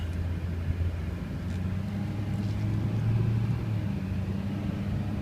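A 2004 GMC Sierra diesel 4x4 crew cab pickup rolls along with a steady low engine rumble and road noise heard from inside the cab, even and continuous.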